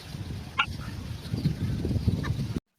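Outdoors in the evening, chickens and chicks let out a few short, faint calls, one near the start and one near the end, over a quiet background murmur.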